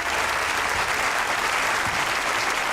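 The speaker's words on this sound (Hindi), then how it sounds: "अब जरा तालियां ठोकें, शोर मचाएं, पागल हो जाए" A studio audience at a comedy talk show claps and cheers in a thick, continuous roar of applause that stays loud and even from start to finish.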